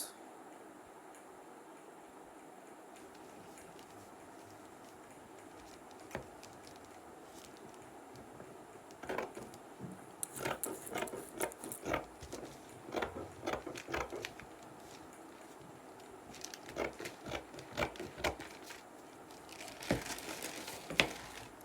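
Scissors cut a paper pencil skirt pattern, with quiet snips at first and then clustered bursts of paper crinkling and rustling as the sheet is handled, close and fairly soft.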